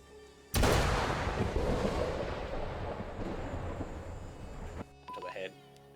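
Explosion in Arma 3 Vietnam: a sudden loud boom bursts in and rumbles on for several seconds before cutting off, followed by brief faint sounds.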